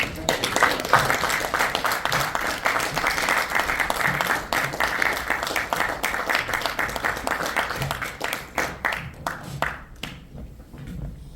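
A congregation at a Korean Christian association's inauguration thanksgiving service and New Year gathering applauds loudly and steadily. The clapping gradually thins into scattered, separate claps that fade out near the end, with a few murmured voices underneath.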